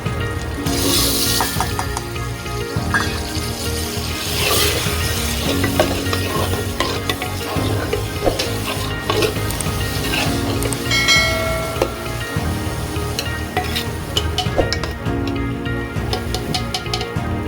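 A ground paste of onion, cumin and tomato fries in a pan for palak gosht, a loud continuous sizzle and bubbling with frequent stirring scrapes throughout.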